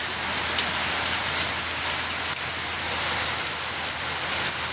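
Steady, heavy rain pouring down close by at 5:30 in the morning, a dense unbroken hiss of drops on hard surfaces with no voices.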